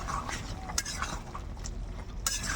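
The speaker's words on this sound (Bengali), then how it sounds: "গরম মশলাটাকে এবার আমি ভালোভাবে মিশিয়ে নেব" A spoon stirs garam masala into jackfruit curry in a pot, scraping and clinking against the metal in short, close strokes over a brief stretch.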